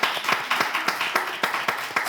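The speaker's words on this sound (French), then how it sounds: "Les enfants, est-ce qu'on peut applaudir, s'il vous plaît?" Children clap together in a quick, fairly even rhythm, a short burst of applause of about a dozen sharp claps with no talking over it.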